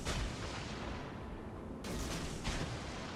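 Torpedoes launch from a warship in World of Warships Legends, giving a dense, roaring blast of hiss that swells and then cuts to a brighter burst partway through, loud and continuous with no talk.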